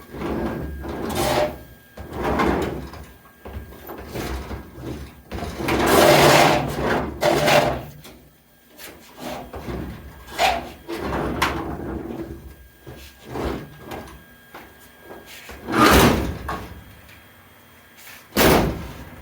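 Sliding door on a 1969 VW bus after door track installation, repeatedly rolled open and shut with scraping slides and several heavy metallic thuds and bangs, close up with no speech.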